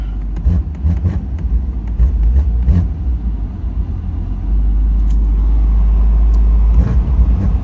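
A BMW M5 with a stage 1 tune idles with a deep, steady rumble, then its engine is blipped in a few short revs that swell and fall back, all loud and close, with no talk.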